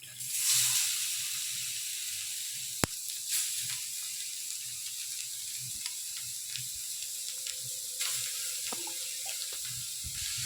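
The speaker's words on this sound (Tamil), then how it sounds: "அதே கடாயில் கேரட்டை போட்டு வதக்கிக்கணும்" Carrots sauté in oil in a kadai, giving a steady, soft hiss throughout, with one sharp click near the start and a few faint taps.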